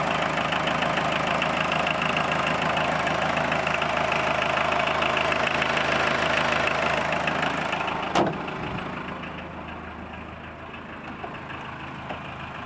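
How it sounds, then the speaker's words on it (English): A diesel engine in an MK1 VW Rabbit idles steadily with the air conditioning switched on, a constant near rumble that drops slightly in level partway through after a brief knock. "And it bogs down the engine."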